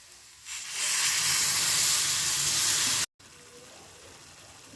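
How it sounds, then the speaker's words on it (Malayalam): Vinegar poured into a hot pan of garlic pickle sets off a loud, close hissing sizzle that swells quickly, holds for about two seconds, then cuts off and settles to a quieter simmer. "വിനീഗർ ഒഴിച്ച് കൊടുക്കാം."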